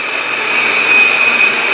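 A self-emptying robot vacuum cleaner runs with a steady, close whirring hum and a high motor whine that holds level throughout, with no talking.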